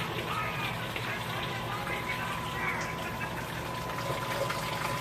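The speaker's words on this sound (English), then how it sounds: "Water is recirculating, if you take a look right here, into the Herms coil" Pumps on a home-brewing rig recirculate water through a HERMS coil, giving a steady, moderately quiet wash of flowing liquid and pump hum that holds evenly throughout.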